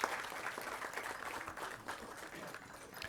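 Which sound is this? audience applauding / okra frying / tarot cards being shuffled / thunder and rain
audience applauding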